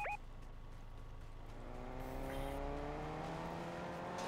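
Car engine in Fortnite rising in pitch as it accelerates, a steady revving whine that climbs over the clip, fairly close, with no talk.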